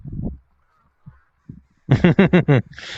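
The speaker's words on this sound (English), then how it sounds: "you basically in VR have a pond to visit." Ducks at a virtual pond in the video game VRChat give a burst of five loud, nasal quacks close by, preceded by a few softer, scattered calls and brief pauses.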